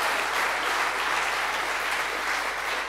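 A conference audience at EuroPython 2019 lightning talks gives a winner a big round of applause, dense and continuous clapping from a crowd that holds steady and fairly loud for the whole stretch.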